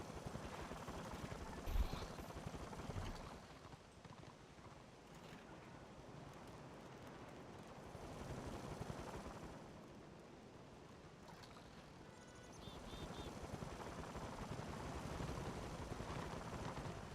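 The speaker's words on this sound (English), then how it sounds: "Chopper." A helicopter in the video game Warhammer Online, a steady rotor drone with a broad rushing, wind-like wash that swells and fades across the span, fairly faint, with no talk.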